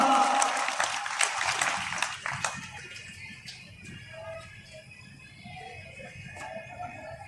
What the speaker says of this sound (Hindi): एक बार जोरदार ताली से अभिनंदन कीजिए